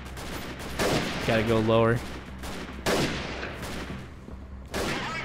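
Rapid bursts of gunfire in the video game Freeman: Guerrilla Warfare, several loud sharp volleys spread across a few seconds, with someone talking between and over the shots.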